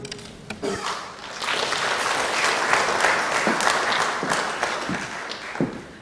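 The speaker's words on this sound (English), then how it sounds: "A big, big round of applause for all of you for attending" An audience applauds at an African Liberation Day celebration held by a Pan-African Movement chapter in Rwanda, steady clapping that swells after a brief lull and carries on at a fairly even level throughout.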